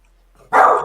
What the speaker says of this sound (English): dog's going to bark now